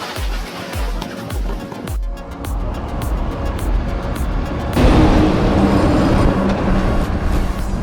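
Kenworth T800 log truck with a 600 HP engine hauling 132,000 pounds of logs along a highway, giving a loud continuous rumble that swells into a heavier roar midway, with no talk heard.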